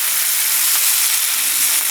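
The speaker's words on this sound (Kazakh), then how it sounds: "Міне пиязмен етін қуырып отырмыз" Meat and onions frying together in a hot pan, a loud continuous sizzle and crackle with no pauses and no voices over it.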